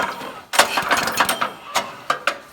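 Recoil starter pulled on a Husqvarna snow blower: a ratcheting mechanical rattle with a sharp tug near the start, then several shorter pulls and clicks in uneven rhythm, close and fairly loud.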